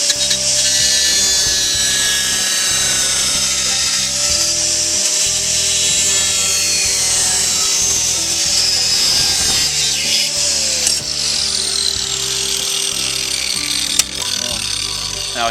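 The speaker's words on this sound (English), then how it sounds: "I'm going to use the same grinder to do that" Angle grinder notching slots in a metal stereo mounting bracket for a 2002-2005 Range Rover L322 Vogue, a loud continuous high-pitched whine that shifts in pitch as the disc bites, running steadily throughout.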